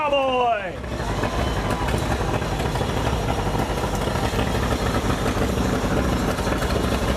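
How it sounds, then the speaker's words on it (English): A 1950 John Deere V tractor engine runs steadily in a parade, a loud, continuous low chugging that fills the scene, with crowd noise and voices mixed in around it. "With a sweet sound, this is a 1950 John Deere V"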